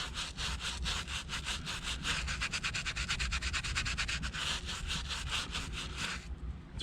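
Rapid back-and-forth scrubbing of a raised grip pattern on a car interior with Chemical Guys Interior Cleaner, close and rhythmic, with dense even strokes that stop just before the end.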